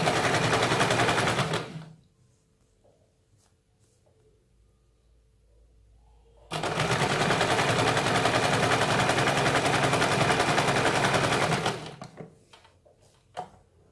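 A sewing machine stitches a katori blouse in two loud, steady runs of rapid whirring stitching, separated by a quiet pause, then stopping with a faint knock.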